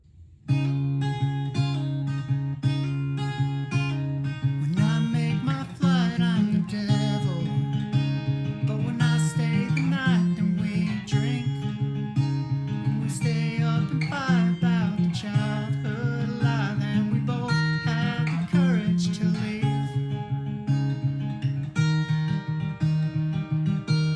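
Guitar playing the pre-chorus of a song: a continuous strummed chord progression with sliding chord changes, close and full, steady throughout with no talking.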